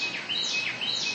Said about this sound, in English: We have a little bit of bird song here with the wrens.